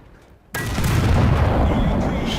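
After a brief quiet moment, a tank cannon in the game World of Tanks fires with a sudden loud boom. The blast rolls on as a sustained roar to the end.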